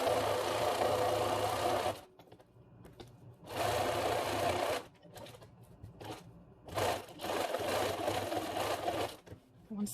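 A sewing machine runs a small zigzag stitch over elastic on a fabric face mask. It makes loud, rapid mechanical chattering in three separate runs, with short pauses between them and faint handling sounds.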